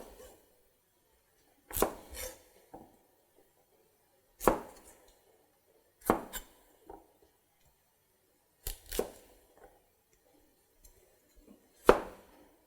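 A kitchen knife cuts carrots into batonnet on a board, with about six sharp, separate chops or quick double chops spaced by pauses in an otherwise quiet room.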